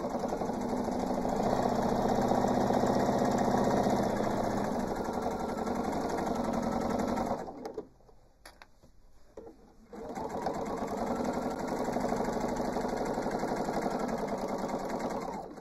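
A sewing machine stitches the facing on an art quilt with a fast, even mechanical whirring hum that stops briefly for a couple of seconds, then resumes at the same steady pace, close and clear.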